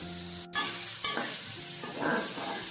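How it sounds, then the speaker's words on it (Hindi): Chunks of potato go into minced meat frying in a pan and are stirred, with a continuous loud sizzle, a brief scrape and clatter near the start, and the hiss swelling as the spoon works through. "अब मैं इसमें आलू डाल दूँगी।"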